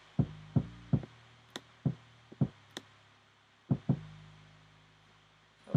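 Punchy low kick drum hits land in an uneven pattern, some followed by a sustained deep 808 bass tone that rings out beneath them, with faint ticks above.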